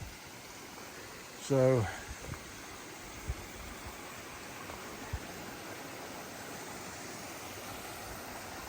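Stream water rushing steadily beneath a washed-out footbridge on the Appalachian Trail in Vermont, a constant broadband wash running the whole time, with a brief spoken word near the start.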